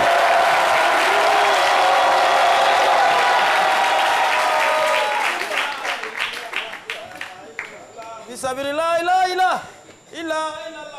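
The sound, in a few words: audience applause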